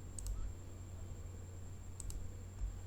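Two quick pairs of mouse clicks at a computer while working in SOLIDWORKS CAD software, faint and close, over a low steady hum with no talking.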